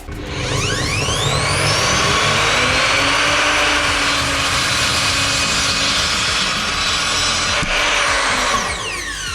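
A DeWalt miter saw whines loudly at close range as it cuts wooden boards, its motor rising in pitch as it spins up, then a sustained cutting roar before it winds down.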